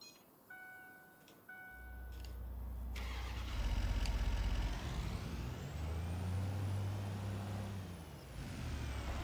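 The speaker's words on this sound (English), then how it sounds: "I like this truck." A truck in the video game Farming Simulator 25 starting up and driving through town, with a low steady engine rumble and a rising whine as it accelerates, preceded by faint ticking.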